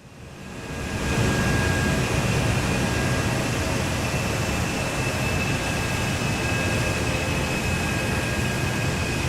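A plane in Microsoft Flight Simulator swinging through a roughly 190-degree right turn during a group flight over Finland, with a steady, loud broadband engine and wind roar that swells in over the first second and then holds.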